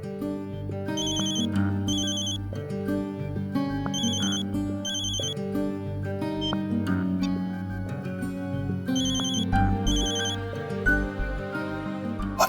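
A phone rings out while a call is placed, repeating bursts of bright ringtone chimes over a steady musical background.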